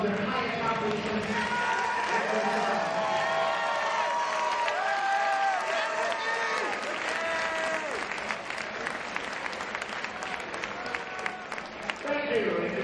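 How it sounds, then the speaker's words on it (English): A hockey arena crowd applauds and cheers steadily for several seconds in a large, echoing space, with scattered shouts rising through the sustained clapping. "Let's recognize them with a round of applause for their high accomplishments."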